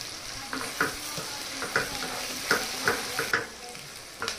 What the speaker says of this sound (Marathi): कढीपत्ता पण छान परतवत आला आहे.